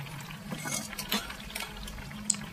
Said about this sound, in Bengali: এবার ভাজা মাছগুলো আমি দিয়ে দিচ্ছি।